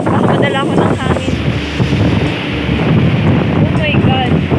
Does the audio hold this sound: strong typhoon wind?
yes